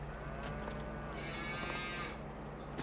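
Cattle lowing on a farm in Farming Simulator on the County Line map, a few drawn-out moos rising over a steady low engine-like hum, fairly close and continuous.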